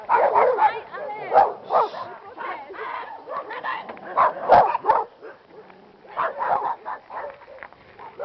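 A large dog barks repeatedly in loud, uneven bursts with some yips and whimpers, close by, while people talk excitedly over and between the barks.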